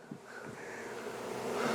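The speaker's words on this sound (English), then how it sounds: "Look at all these bees buzzing around up here." Honey bees swarm inside an old abandoned house, a soft, continuous buzzing that swells slightly toward the end, close but faint, with no talk over it.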